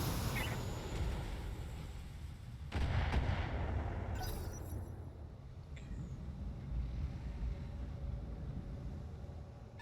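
Mech weapons firing on radar towers in the Battletech video game, rumbling blasts and booming impacts over a continuous low roar, with a sharp burst a few seconds in.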